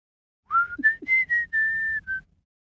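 A person whistles a short series of clear notes, mostly steady tones with small pitch steps, one held longer than the rest, close and alone.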